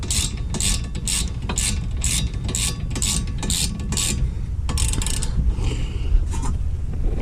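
A wrench clicks repeatedly while torquing a rear wheel hub bolt on a 2012–2015 Honda Civic, giving a steady run of ratcheting strokes close up, with a short pause near the end before a few more clicks.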